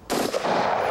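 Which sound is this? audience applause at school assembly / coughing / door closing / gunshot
gunshot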